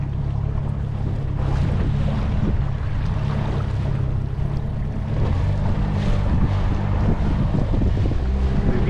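Wind blows over a lake while out on a boat, a constant, loud rushing noise buffeting the microphone above a low droning hum, with no talk.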